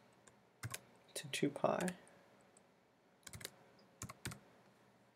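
Computer keyboard keys clatter in short bursts while code is typed, quick clusters of close, crisp clicks separated by pauses, with brief speech near the start.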